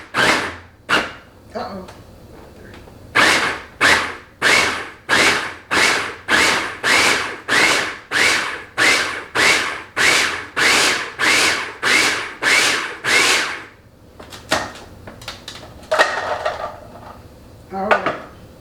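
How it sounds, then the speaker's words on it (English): A food processor pulses a crumb mixture with butter and Crisco for apple pie in a jar, making about twenty loud, evenly spaced whirring bursts close by, with brief talk before and after. "I'm going to pulse this 20 times. I think when I do it 20 times, it grinds up perfectly."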